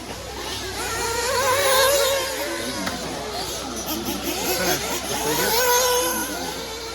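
Nitro RC cars race around a track at the Nitro Blast 2022 Nationals in Otterville, their engines whining and buzzing in overlapping high-pitched drones, with crowd chatter underneath throughout.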